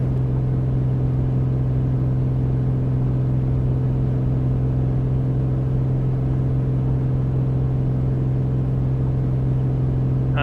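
An A2A Comanche light aircraft engine runs at full power in a flight simulator, a loud, steady droning hum with a constant low tone and no change in pitch, heard alone.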